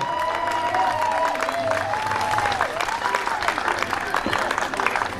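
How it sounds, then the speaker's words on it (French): Audience applauds the women's podium at the Relais 333 du Kangourou 2018 race, steady clapping with some cheering while a voice talks over it. "Allez, applaudissements pour ce beau podium féminin 2018."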